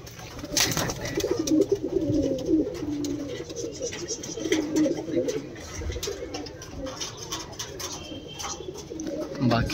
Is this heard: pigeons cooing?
yes